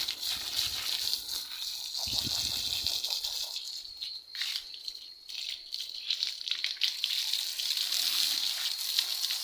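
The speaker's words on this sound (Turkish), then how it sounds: "Şimdi diğer tarafını da yıkayalım." Water gushes and splashes steadily while a dog is washed on a very hot day, a continuous near rushing stream with brief lulls and rattling drips, no talking.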